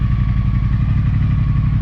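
Close, loud, steady running of a Triumph Thruxton motorcycle engine with even rhythmic pulsing and mechanical clatter, held the whole time with no talk.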